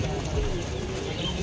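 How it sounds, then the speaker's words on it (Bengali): Madrasi pigeons cooing low and steady at a Konnagar pigeon market in Kolkata, a continuous murmur of coos with voices talking over it. "এটা জিরিয়া পায়রা আছে"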